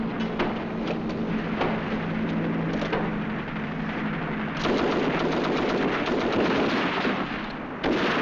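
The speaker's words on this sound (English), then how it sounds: "Mortar." Mortar and gunfire crack and thud repeatedly in a war film battle scene, dense and loud, with rapid bursts over a continuous rumbling background.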